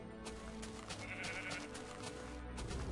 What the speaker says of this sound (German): Schon, das Schaf ist gestorben. Aber ich habe seine Wolle gekriegt.